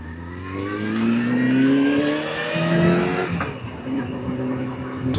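A motorcycle on its first ride after winter pulls away from a green light, its engine note rising through the gears in long climbing sweeps, close and fairly loud, with a short shift pause partway.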